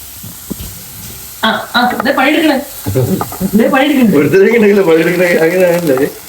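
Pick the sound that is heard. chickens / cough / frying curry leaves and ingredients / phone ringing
frying curry leaves and ingredients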